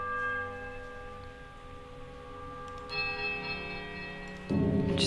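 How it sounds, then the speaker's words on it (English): A temple bell in the Pillars of Eternity game gives a strange wobbling peal that swells toward painful shrillness and fades to a mournful chime, heard as sustained ringing tones with a brighter strike near the end. "the bell sounds a strange wobbling peal that grows to a painful shrillness before diminishing to a mournful chime"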